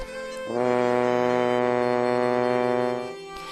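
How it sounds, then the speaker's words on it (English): A single long, steady horn blast, sustained for about three seconds with a rich brassy tone, sounding alone. "Prince Llewellyn heard the sound of a hunting horn"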